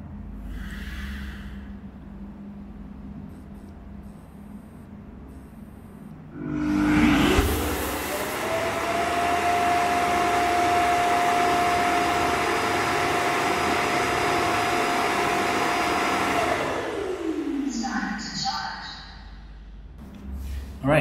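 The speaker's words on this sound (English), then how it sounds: "that's the sound of the dustbin sucking the dust from the vacuum cleaner" A TP-Link Tapo RV30 Plus auto-empty dock switches on with a sudden loud whoosh and keeps up a steady, rising suction drone as it pulls dust from the robot vacuum, then winds down near the end.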